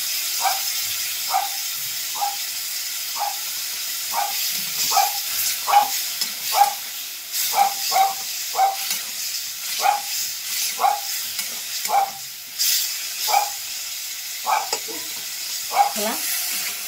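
Kochur loti stir-fries with prawns, tomato, water and salt in a pan, with a soft steady sizzle under rhythmic scraping strokes of a spatula, roughly one each second.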